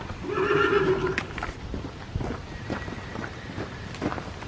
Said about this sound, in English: Taking the horses to the barn.